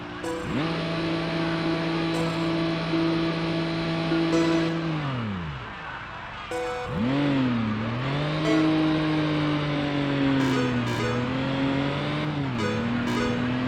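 A 454 El Camino truck engine in a racing video game drones loudly and steadily, pitch falling as it slows, then rising again in repeated revs and shifts, with a faint tire squeal.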